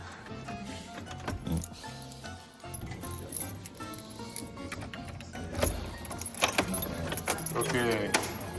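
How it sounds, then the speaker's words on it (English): A large bunch of keys jangles and clinks repeatedly up close, handled by an old Soviet theater's manager, with a vehicle rumbling in the background and people talking. "We've got a lot of keys there."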